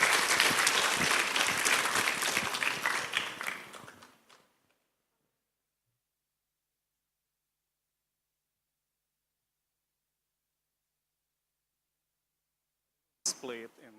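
Conference audience applauding speakers, a full burst of clapping that fades out after about four seconds into silence, followed by a brief voice near the end.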